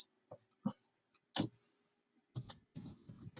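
Sharp mouse clicks sound close and dry while a Google Form is being built, a few isolated clicks at first and then a denser cluster of clicking near the end, with no talk.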